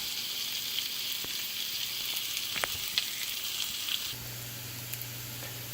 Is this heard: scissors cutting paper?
no